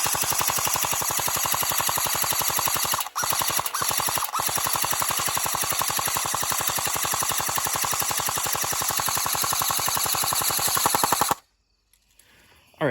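An airsoft M249 fires long, continuous full-auto bursts with a fast, even mechanical rattle, broken by two or three brief pauses, then cuts off abruptly near the end.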